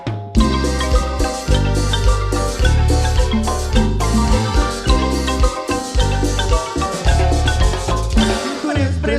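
A marimba orchestra plays lively dance music at a local event in San Andrés Sajcabajá, Quiché, Guatemala, with bright struck wooden bars over a bouncing bass line, loud and continuous throughout.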